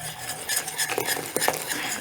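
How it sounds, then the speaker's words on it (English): A spoon stirs homemade buttermilk syrup, just taken off the heat, after vanilla and baking soda are added to make it froth; soft, steady scraping and light clinks of the spoon against the pot, close and continuous, with no talking. "Vanilla and then the baking soda will make this frothy. And just stir it."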